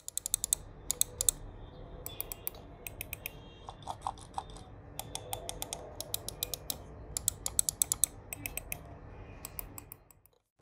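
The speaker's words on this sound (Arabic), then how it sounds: "الزراير كلها ثابته في مكانها، مش بتتهز كده ولا بتلخلخ ولا حاجه، وصوتهم زي ما انت هتسمع كده" Crisp clicks from the buttons of a Logitech G102 gaming mouse, pressed in quick irregular bursts and short runs, close and distinct over a faint low hum with no talking.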